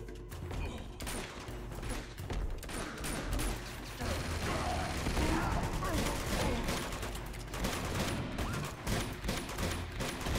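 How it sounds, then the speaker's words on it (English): Dense bursts of gunfire in the video game Uncharted 2: Among Thieves, rapid overlapping shots crackling continuously throughout amid chaotic combat noise. "Stop shooting."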